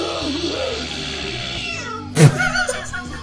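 A cat in an animated Polish comedy series lets out one short, loud meow near the end, heard over a soft murmur of background sound.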